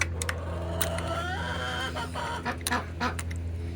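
Ducks in a coop give short quacks and clucking calls, several birds close by over a steady low hum, the calls bunching toward the end.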